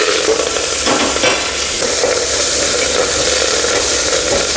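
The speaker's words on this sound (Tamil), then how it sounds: "காஞ்ச உடனே கடுகு போட்டுக்கோங்க. அப்புறம் கருவேப்பிலை வரமிளகாய்" Mustard seeds, curry leaves and dried red chillies temper in hot sesame oil for sambar, producing a loud, close, continuous sizzle with crackling pops and stirring, and no voices.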